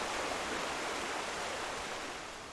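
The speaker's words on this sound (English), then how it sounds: "I need to get away from the raging waterfall" A raging waterfall in the video game Final Fantasy XIV gives a steady, dense roar of rushing water, loud and continuous throughout with no speech over it.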